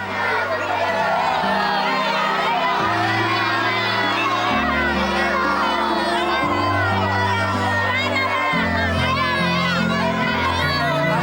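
A crowd of adults and children shouts and chatters together in a busy market scene, the loud commotion continuous and layered over steady music.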